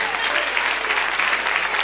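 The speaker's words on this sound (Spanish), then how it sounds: "Le damos un aplauso al Señor" A church congregation breaks into steady, dense applause during a worship service, the clapping sustained and close throughout.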